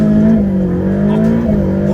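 A Ferrari F8 Tributo accelerating hard from a standing start, its engine a loud, steady, close, deep roar with a brief dip as it shifts.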